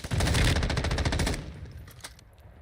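Rapid automatic fire from an M13 rifle in Call of Duty Warzone, a dense burst of shots lasting just over a second, loud and close, then trailing off into quieter game ambience.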